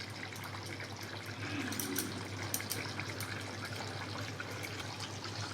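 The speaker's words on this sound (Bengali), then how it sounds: "এবার একটু জল দিয়ে দেব, অল্পই জল দেব" A small amount of water is poured into a simmering Bengali bhetki fish bone curry, a faint, steady gushing splash against quiet kitchen background noise.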